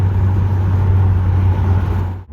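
A car engine hums steadily and loudly at close range, then fades out abruptly at the very end as the car pulls away.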